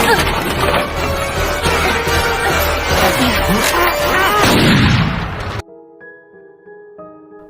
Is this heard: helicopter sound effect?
no